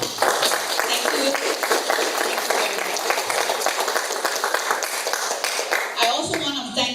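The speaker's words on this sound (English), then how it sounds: "So everyone, give a biggest applause." Audience applause for presenters at a venture presentation event, a dense, steady clapping from many hands that runs loud and continuous for several seconds before tapering off near the end.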